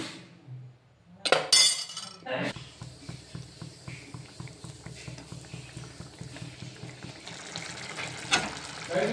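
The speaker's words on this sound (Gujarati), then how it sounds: "આને મિક્સ કરી લેવાનું છે થોડી વાર હવે આપણે મીડિયમ ગેસ પર ચડવા દઈશું" A spoon stirs okra in a yogurt curry in a pan over medium gas, with steady rhythmic clinks and scraping under a soft simmer, and a voice is heard at times.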